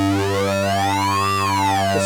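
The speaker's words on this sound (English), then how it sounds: "Let's take a listen to the sync wave as well." A Behringer DeepMind 12 synthesizer plays a sync waveform, a bright, buzzy sustained tone whose overtones sweep upward and back down in a smooth arc, held alone for about two seconds.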